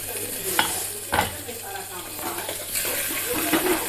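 Garlic and chillies, with cumin, fry in hot mustard oil in a Jharkhand home kitchen, giving a steady close sizzle with a few sharp spatters and stirring scrapes throughout.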